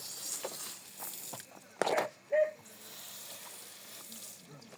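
Water flows through a drain blocked by a lodged stone in Dharan, a steady close rush broken by two sharp splashing knocks midway, with faint voices around.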